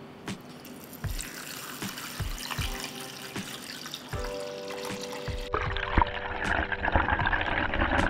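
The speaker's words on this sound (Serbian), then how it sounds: "Sada ću u šerpu sipati vodu do visine poklopca." Water poured into a pot holding jars set on a cloth for pasteurizing, a rushing tap-like flow near the microphone with several clinks of glass, growing fuller toward the end, no talk.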